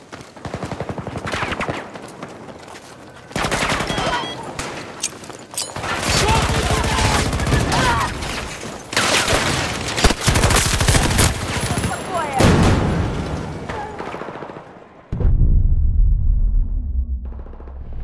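Machine gun fire in Battlefield 2042 Conquest combat: sustained, loud automatic bursts of shots crackling back and forth, broken by brief lulls and then resuming with full intensity near the end.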